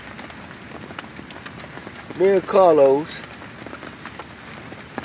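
Steady outdoor rain hiss runs through the whole stretch, constant and moderately close, with a voice talking briefly over it in the middle.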